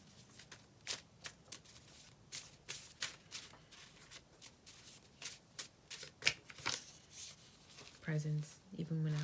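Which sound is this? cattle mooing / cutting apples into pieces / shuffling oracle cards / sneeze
shuffling oracle cards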